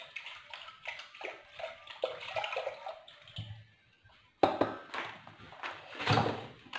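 Milk poured into a pot at close range, a splashing, gurgling pour with brief pauses and a renewed stream partway through.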